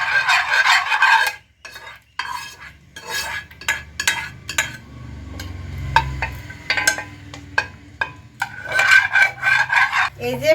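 Stirring mango juice into milk for homemade mango sweet yogurt: a spoon scrapes and clinks against a metal pot in repeated bursts, close and fairly loud, with quieter pauses between strokes.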